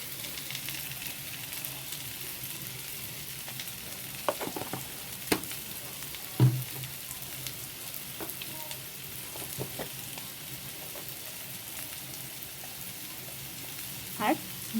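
Ground chili, cumin and coriander spices frying in a pan, a soft steady sizzle running throughout with scattered scraping clicks of stirring, one louder knock midway, and faint speech mixed in.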